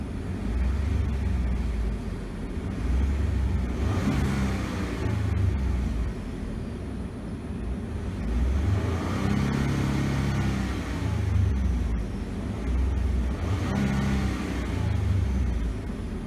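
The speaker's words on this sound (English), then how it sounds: "Very nice sounding engine." A 2015 Ford F-150 Lariat EcoBoost revs repeatedly in short bursts against a rev limiter near 4,000 RPM, each rise swelling and falling back to a low idle rumble, heard close with no talking.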